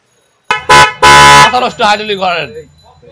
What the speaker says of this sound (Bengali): অন্য কোনো হর্ন এটা দিবে না ভাই। খুবই অনেক লাউড একটা সাউন্ড ভাই